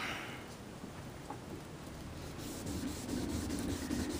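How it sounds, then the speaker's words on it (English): Hand sanding of a surface during color sanding before buffing: steady back-and-forth abrasive rubbing strokes, quiet and fairly close, growing slightly louder toward the end with no talking. "we're going to sand in the opposite direction because we came across this way"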